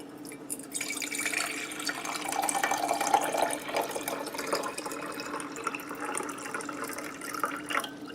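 Water pours steadily into a coffee maker's reservoir, a continuous trickling splash that swells slightly and then eases, with no talking.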